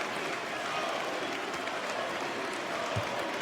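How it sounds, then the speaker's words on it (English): A basketball arena crowd at Fiserv Forum applauding and cheering for the Milwaukee Bucks, a dense, steady wash of clapping and crowd noise that fills the whole space with no pause. "to the applause and appreciation of the crowd, which now rises in Fiserv Forum"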